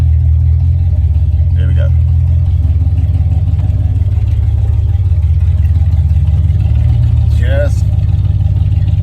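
A Land Rover Discovery fitted with straight-pipe exhaust rumbles with a deep, steady low drone on an off-road obstacle course, staying constant throughout while someone talks briefly over it.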